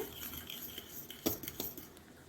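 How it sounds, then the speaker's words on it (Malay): Rice flour and wheat flour being mixed into a batter in a bowl, soft scraping with light metallic clinks of a spoon against the bowl, close and fairly quiet. "Bila dah sejuk, masuklah tepung beras, tepung gandum, sebati"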